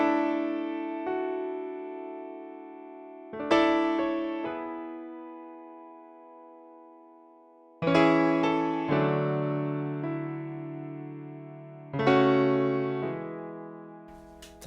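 A piano plays the opening verse of a song, with chords struck every few seconds and left to ring and decay, clear and close with no voices.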